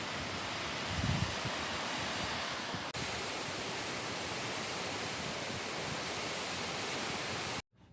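A waterfall roars as a steady, loud wash of rushing water that fills the scene without a break, with a brief muffled thump partway through and a cut to near silence at the very end.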